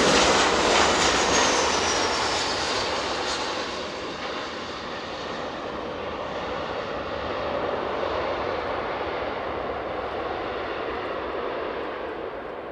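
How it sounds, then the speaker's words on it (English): A Boeing 737 jet on a high speed approach at East Midlands Airport, a loud broad engine roar with a descending whine that eases after a few seconds into a sustained rumble. "High speed approach can only be ye olde 737."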